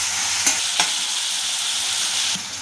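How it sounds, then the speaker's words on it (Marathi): Onion and tomato sautéing in hot oil give a loud, continuous close-up sizzle, broken by a couple of quick spoon knocks. "टोमॅटो कांदा चांगला परतायचा।"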